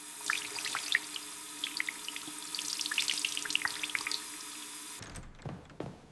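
Cold water running from a bathroom tap, a steady splashing stream with bright droplet spatter that stops abruptly near the end, leaving a few faint drips.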